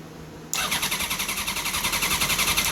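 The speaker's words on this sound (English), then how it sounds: "I'm going to hit the kill switch and try and fire it up" A race car engine is cranked over by its starter for a first start-up, first a brief low hum, then loud rhythmic churning pulses repeating steadily for about two seconds, close by, with no talking.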